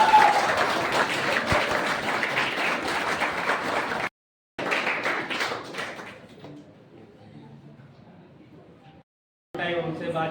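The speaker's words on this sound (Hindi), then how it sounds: "एक बार जोरदार तालियों से" Loud applause from an audience at an award ceremony honouring a student, dense clapping for about four seconds, then a break, another burst fading into sparser clapping and faint murmur, and a final short loud burst.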